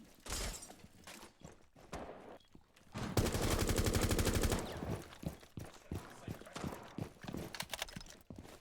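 Rapid gunfire in a Rainbow Six Siege esports match, a sustained burst of shots fired in quick succession alongside scattered single shots and footsteps, with a commentator talking over it.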